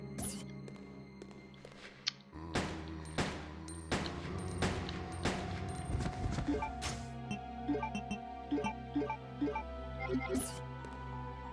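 Gunfire in the video game Resident Evil: Code Veronica X, a series of sharp, booming shots at irregular intervals over game music and ambience, with a voice talking throughout.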